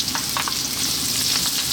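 Sliced onions fry in sunflower oil in a wok, giving a dense, even hiss with a couple of faint stirring taps and no talking.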